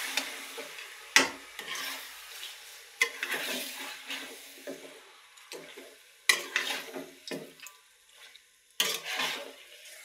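Marinated meat tossed into a hot pan and stirred as it fries, with bursts of sizzling and scraping that rise and fade in several waves, close and fairly loud, with no talking.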